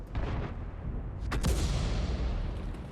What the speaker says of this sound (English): We're going to fire at this on the move.